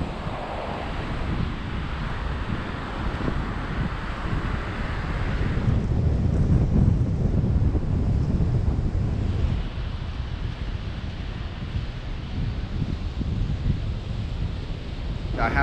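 Steady wind and rolling surf on a clean Goa beach while someone walks along the shore, a continuous broad rush that swells louder midway, with no talking.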